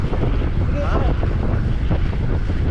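Strong wind buffets the microphone with a constant low rumble, like being out on open water, and a voice is faintly heard beneath it.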